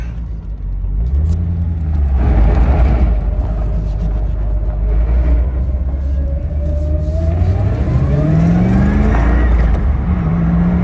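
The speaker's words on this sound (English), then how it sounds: "See if it can burn rubber here." A Corvette engine revs up and accelerates hard, a loud close rumbling roar that climbs in pitch in rising sweeps, steady and dominant for about ten seconds.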